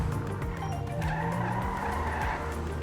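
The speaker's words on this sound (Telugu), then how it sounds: "మన కార్ని అయితే ఇక్కడ నీడలో పెడదాం, రివర్స్ చేసి పెడదాం." A car in a Franklin real-life mod video game reverses into a shaded parking spot, with a steady engine drone and tire skidding and squealing throughout, loud and close.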